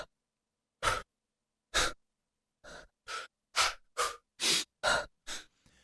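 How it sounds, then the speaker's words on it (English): Breath samples from a savage ritual tension sound library play one by one: about ten close, loud inhales and exhales of varying length in a steady rhythm, separated by short silences, with no talking. "And I'll just do some breaths."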